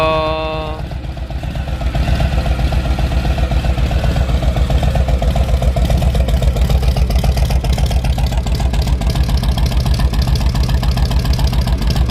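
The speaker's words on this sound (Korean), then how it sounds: "소리 좋은데요? 미러키 엔진의 촐로 스타일 이야." A tuned Harley-Davidson Softail Deluxe, chollo style with a Milwaukee engine, idles close by with a steady, loud, deep throb that keeps an even rumble for the whole stretch, with no talking.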